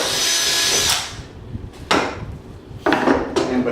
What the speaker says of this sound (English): So the Forstner bits actually leaves an indentation in the center, so I'm just going to use that to start my hole and drill it on through